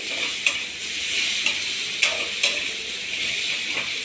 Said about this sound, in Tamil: நம்ம ஒரு 4 தக்காளி சேர்த்துக்கலாம். நல்லா வதக்கிக்கலாம்.